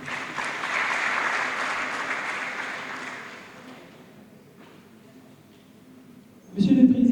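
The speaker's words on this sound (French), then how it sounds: "je vous demande s'il vous plaît un tonnerre d'applaudissements pour encourager et féliciter le président de l'amicale" An audience's thunderous applause for a student association president at the opening of the Grandes Journées, loud at first and then thinning and fading over several seconds before a voice starts speaking near the end.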